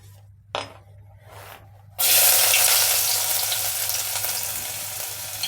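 Finely chopped ginger and garlic drop into hot oil after a few quiet clatters, bursting into a loud, dense sizzle that gradually eases while staying strong.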